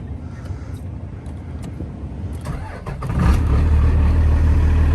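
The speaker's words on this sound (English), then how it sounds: "Start right up. She's pretty smoky, it's idle." A second-generation Dodge Ram crew cab diesel, an automatic, starts up after sitting for about a week: a brief cranking, then the engine catches and settles into a loud, steady idle close by.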